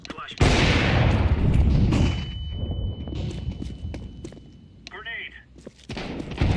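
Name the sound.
flashbang grenade going off in a video game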